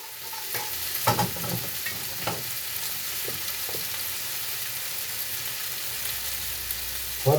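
Goat head meat frying in a pan for a Kenyan wet-fry, a steady close sizzle with several scraping strokes of a stirring utensil at irregular intervals and no talk.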